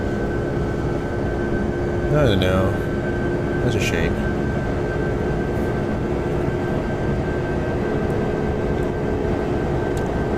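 Simulated airplane engine in the FSX flight simulator, a constant droning hum with an odd, glitchy pitch sweep partway through, heard under brief talk.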